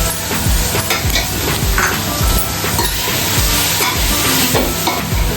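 Chopped onions and paste for biryani fry in a hot pan, giving a loud, continuous sizzle with repeated scraping and clanking of a stirring spoon against the pan.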